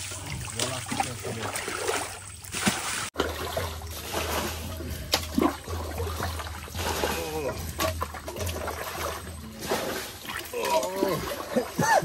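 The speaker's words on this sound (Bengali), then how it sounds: "জল আসছে।" Water splashing and churning close by as people pull water through a shallow spot to catch fish, with continuous sloshing and bursts of splatter under frequent overlapping voices talking.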